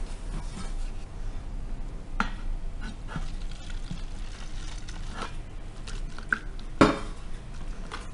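Homemade Omo laundry soap mixture being stirred with water in a container, giving soft scraping and clinking of a utensil against the pot, with a few sharper knocks, fairly quiet and close with no voices.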